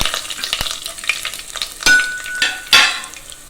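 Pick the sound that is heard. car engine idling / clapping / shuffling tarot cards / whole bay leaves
whole bay leaves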